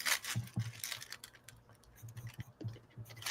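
A sheet of tissue paper is handled at an art table, giving soft, papery crinkles and rustles in several short bursts with quiet gaps, fairly faint and without talk.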